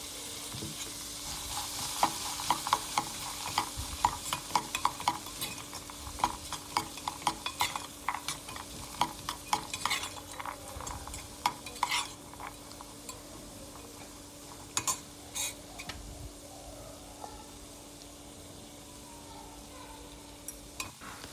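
Ground raw peanut mixture being stirred in a hot pan, a soft continuous sizzle broken by frequent sharp scrapes and taps of the spoon against the pan, fairly quiet and close, with no talking.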